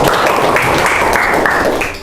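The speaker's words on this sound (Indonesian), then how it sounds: "Tepuk tangan dong." Short burst of applause from a classroom group during a lesson, loud and close, fading out at the end.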